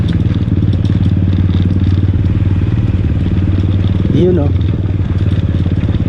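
A Rusi manual motorcycle rumbles steadily along a rural road in Laguna, its engine a loud close drone throughout, with a rider speaking briefly over it.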